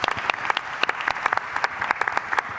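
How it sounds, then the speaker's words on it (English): Audience applause follows a speaker at a conference session in a festival hall, crisp scattered individual claps at moderate loudness, fairly sparse and steady, with no talking over them. "That's a round of applause."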